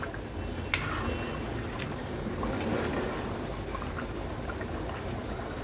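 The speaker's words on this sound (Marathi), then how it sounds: "कालवणाला पण छान उकळी आली आहे." Fish curry in the Agri Koli style bubbling at a steady boil in a pot on a gas stove over a high flame, a continuous soft simmering wash with one brief clink near the start, no talking.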